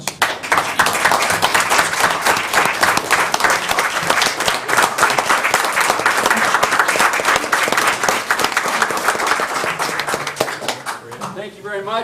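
A council meeting audience applauds Vietnam era veterans and their families, steady dense clapping filling the room for about eleven seconds before tapering as a voice begins to speak.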